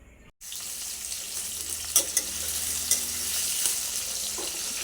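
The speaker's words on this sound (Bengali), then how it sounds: "আলুগুলো দিয়ে দিয়েছি আলুগুলো একটু ভেজে নেবো লাল করে" Potatoes frying in hot oil, a loud continuous sizzle that starts abruptly after a short quiet moment, with a few light clinks of a spatula stirring, no voices.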